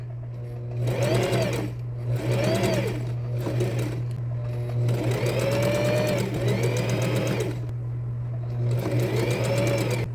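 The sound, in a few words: sewing machine stitching fabric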